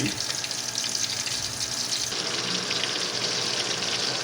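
Chicken fillet fries in a pan with a dense, steady sizzle that stays loud and even throughout, with no pauses.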